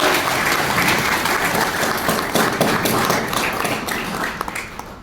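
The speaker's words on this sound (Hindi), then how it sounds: "तो एक बार सर के लिए भी भाई जोरदार ताली होनी चाहिए।" An audience at a Janjatiya Gaurav Diwas programme applauds with loud, sustained clapping from many hands, some individual claps standing out near the end as it fades.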